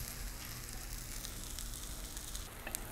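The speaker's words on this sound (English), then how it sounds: "Let them saute for a little while, maybe 1 or 2 minutes on each side" Oyster mushrooms sauté in a pan with a steady, even sizzle that stays faint and continuous throughout, with no talking.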